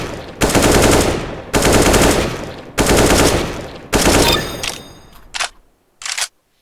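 Automatic weapon fire in the video game Recoil Master: four loud sustained sprays of rapid shots, each lasting about a second, separated by brief gaps, followed by two short bursts at the end.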